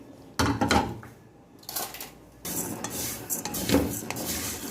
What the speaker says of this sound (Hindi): अब मैंने ये डाल देनी है सेवियाँ पोटे वाली